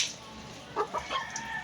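A chicken clucks in a few short, close bursts against a steady background hiss, with no talking.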